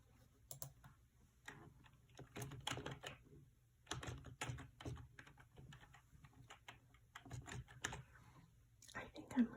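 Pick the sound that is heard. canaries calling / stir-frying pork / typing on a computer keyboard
typing on a computer keyboard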